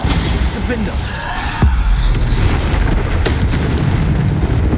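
Bombarda spell explosions go off in Hogwarts Legacy combat, with loud booms and impacts over dense game noise while a voice shouts over the action.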